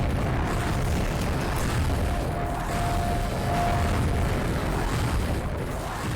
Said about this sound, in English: now we can just fire some multi-grenades